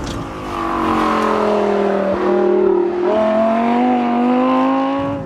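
A 2013 Lamborghini Gallardo LP550-2 engine pulls hard on Italian roads, a loud, close in-car drone rising through the revs, dipping briefly between gears, then climbing again.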